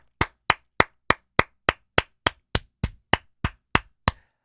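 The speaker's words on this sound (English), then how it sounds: "I had to include this to give you a round of applause" A single person claps hands fourteen times in a steady, evenly spaced rhythm, each clap sharp and close with a quick decay into silence between, loud and isolated without any talk.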